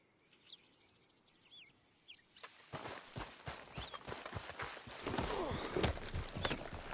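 Steady clip-clop of hooves on a hard path in Red Dead Redemption 2, starting faint over insect chirps and growing louder and busier as the horse moves closer.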